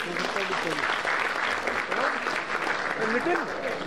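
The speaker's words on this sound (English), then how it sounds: "A big round of applause." Steady applause from a crowd, a dense patter of many hands clapping continuously and fairly loud throughout.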